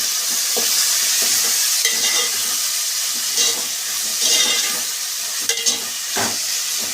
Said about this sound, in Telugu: 3 టమాటాలు కట్ చేసి వేసుకుంటున్నాను.